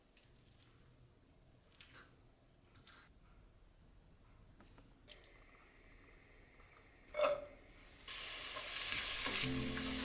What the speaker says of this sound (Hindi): Frying all cut vegetables in a 1 tablespoon of olive oil.